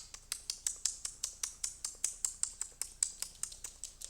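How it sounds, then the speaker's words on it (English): A person makes a sharp, regular clicking noise with the mouth to call a pet dog, about four clicks a second, close and steady, heard alone. "now I'm gonna make the clicking noise."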